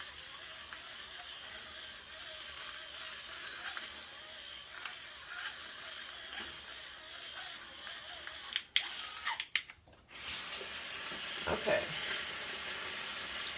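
Running water from a sink tap while a face is rinsed, a soft continuous splash with a few louder sharper spatters midway, and a brief spoken word near the end.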